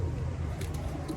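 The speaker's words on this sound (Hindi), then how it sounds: "ये आपके सामने कबूतर मैं आपको दिखाता हूँ" Soft, low pigeon cooing murmurs close by over a dull background hum.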